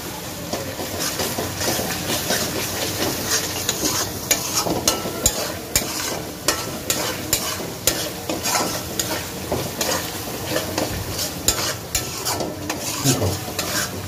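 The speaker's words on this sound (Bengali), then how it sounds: "ধনে বাটা দিয়ে আবারও কিছুক্ষণ কষিয়ে নেব" Spice paste with added coriander paste fries in oil, a continuous sizzle with repeated scraping and knocking of a spoon against the pan as it is stirred, in steady irregular beats.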